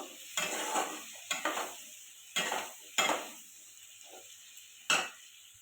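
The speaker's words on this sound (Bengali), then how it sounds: "পেঁয়াজ কুচনো দিয়ে দিলাম এটা একটু লাল লাল করে ভেজে নেব" Chopped onions frying in melted butter in a pan, a low sizzle broken by about five sharp scraping strokes of a spatula, each with a brief burst of crackle, close and fairly quiet.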